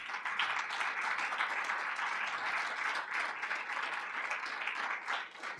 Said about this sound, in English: Another round of applause for our outstanding faculty members.